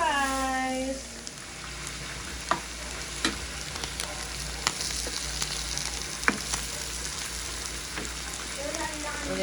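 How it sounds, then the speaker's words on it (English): Food sautés in a hot pan, a steady dense sizzle with intermittent scraping and clinking as it is stirred, with a voice talking briefly at the start. "Then we'll just saute them for a minute"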